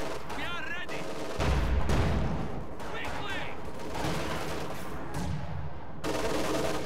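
Grenades are thrown at a tank in Company of Heroes 2, giving several bursts of explosive battle noise over a dense backdrop of game gunfire.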